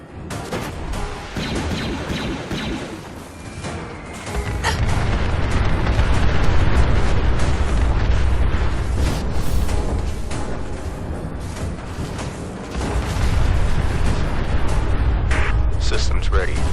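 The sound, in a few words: nuclear weapons exploding in a robot war video game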